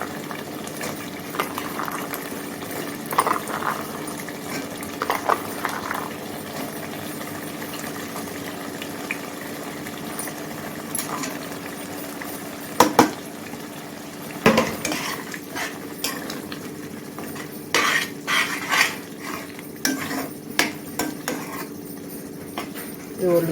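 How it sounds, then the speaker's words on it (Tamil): Green peas and tomato are stirred and sautéed in a pan with a metal spoon, giving repeated scraping and clinking over a steady sizzle, with occasional louder knocks against the pan. "இது ஒரு நிமிஷம் நல்லா வதக்கி விடுங்க."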